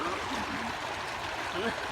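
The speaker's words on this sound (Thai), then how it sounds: "น้ำไหลแรงมากเลย" Floodwater rushes strongly along a road, a continuous close churning and gurgling wash of water with no break.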